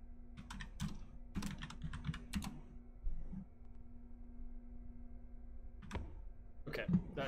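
Typing on a computer keyboard during a game playtest: short bursts of keystrokes with pauses between them, close but fairly quiet, against a steady low hum and faint background noise.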